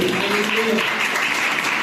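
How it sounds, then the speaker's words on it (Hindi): A church congregation claps steadily together in praise, a continuous wash of many hands, with a voice speaking over it at the start. "जोरदार परमेश्वर का ताली बजा देते"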